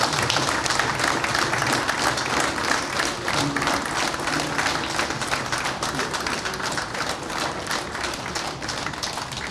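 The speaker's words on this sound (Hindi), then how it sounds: "सभी लोग ताली बजाकर स्वागत करूँगा।" Audience at a First India reporters and stringers meet claps in welcome for the channel head, a continuous dense patter of many hands that stays steady across the clip, with a little talk underneath.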